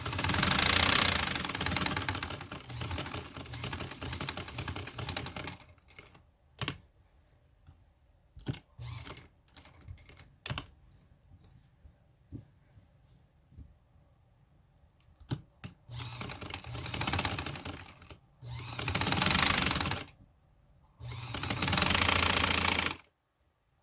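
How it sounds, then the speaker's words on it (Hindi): A sewing machine stitches along a dress neckline in several bursts of steady mechanical whirring, separated by short pauses and lighter clicks, close and fairly loud with no talking. "अब हम बाहर की सिलाई लगा रहे हैं, अंदर की लगा ली मैंने।"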